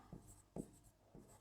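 Handwriting during a Class 8 mathematics lesson: three short, distinct scratching strokes spaced about half a second apart, close by and fairly quiet, with no talking.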